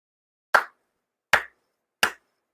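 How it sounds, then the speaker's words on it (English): Hand claps offered during a Konko Kyo monthly memorial prayer service, three sharp, evenly spaced claps about three-quarters of a second apart, clear and alone against silence. "4 sincere claps."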